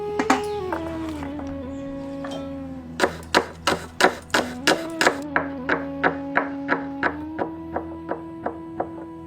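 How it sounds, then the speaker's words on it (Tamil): A knife chops onions on a board while a Malabar chicken biryani is being prepared. About sixteen crisp, evenly spaced chops sound close by over a steady, humming background tone. "400 கிராம் வெங்காயத்தை நறுக்கி வச்சிருவோம்"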